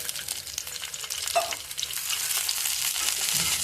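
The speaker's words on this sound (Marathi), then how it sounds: "आता आपण तेल घालून चांगलं मिक्स करून घेऊ" Green chillies and garlic cloves roast in a spoonful of hot oil while being stirred. A steady, close crackling sizzle runs throughout, with a few soft scraping stir sounds and no talking.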